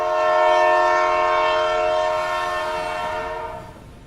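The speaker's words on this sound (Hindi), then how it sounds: "दिल्ली टू पुरी दुरंतो एक्सप्रेस अपनी लंबी सीटें लेकर धीरे धीरे चल पड़ी।" The Delhi to Puri Duronto Express sounds a loud, sustained horn that holds steady and then slowly fades as the train pulls away, with no talking.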